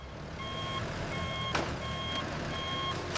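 Reversing beeps from a truck backing into a loading dock bay at a cassava flour processing plant sound in a steady, evenly spaced series of loud tonal pulses over low engine rumble, with a brief hiss partway through.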